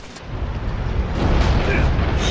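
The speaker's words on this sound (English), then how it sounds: "the tank basically it basically runs through the rock wall to get at you" In Resident Evil 6, a tank bursts through a rock wall in a water garden area with a heavy, rumbling crash and grinding debris that swells louder partway through and stays thick and booming to the end.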